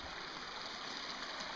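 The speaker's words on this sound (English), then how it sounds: "I had to jump this creek right here" A creek in the woods flows with a steady, close rushing and splashing, a continuous even wash of water with no voices.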